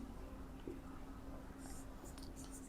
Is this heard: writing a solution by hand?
yes